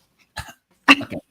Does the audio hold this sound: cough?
yes